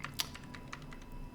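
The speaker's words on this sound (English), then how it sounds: "I don't want Joyce to keep on typing in real time" Someone types real-time captions on a computer keyboard during a nonprofit talk, quick, soft key clicks with one sharper tap, faint and steady under a quiet room.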